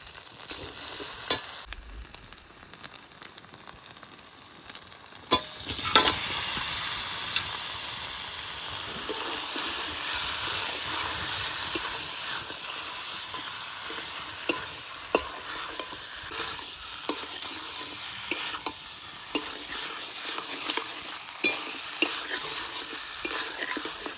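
Country chicken pieces go into spice-fried oil and sizzle steadily in a pot, a dense continuous frying hiss with occasional stirring clicks, close by, and faint murmuring voices in the background at times.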